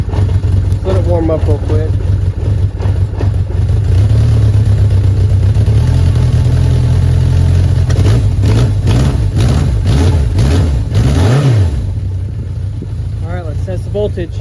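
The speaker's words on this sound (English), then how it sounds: "let's start the bike" A 1981 Yamaha XS1100 motorcycle engine runs steadily at close range, its low rumble rising and settling through a few throttle blips while someone talks over it.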